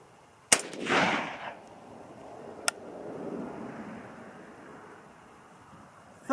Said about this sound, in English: Alright, so now I'm going to shoot the target just right of the last one I shot.